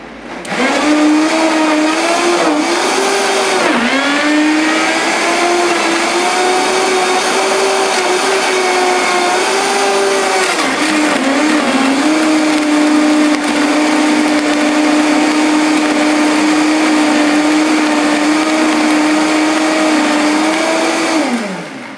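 A blender runs on high, blending a green spinach smoothie, with a loud, steady motor whine that shifts pitch briefly as the contents churn and then holds constant until it stops at the end.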